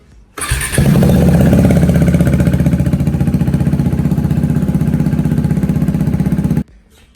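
A KTM RC390 motorcycle engine starts after an oil change, catching with a sharp burst and then settling into a loud, steady, close idle with a rapid even pulse for about six seconds before cutting off.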